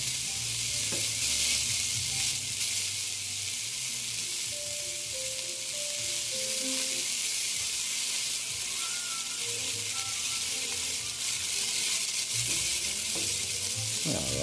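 Beef pieces browning in vegetable oil in a pan for stew, a steady close sizzle and spatter with occasional stirring and utensil clinks, no voices.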